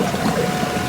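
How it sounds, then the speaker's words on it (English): Water is pumped through a line back up into a planter's tank, making a steady, continuous rushing flow at a constant level with no talk. "I'm routing all my water through my pump down this line and through here. That goes back up into the tank."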